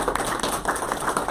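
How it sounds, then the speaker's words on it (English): Applause at a city council meeting in Semmes, a short burst of scattered hand claps close by with uneven rhythm. "I think we ought to give them an applause."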